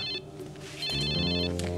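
A telephone rings in two bursts of bright, trilling electronic tone over a steady bed of background music in a drama scene.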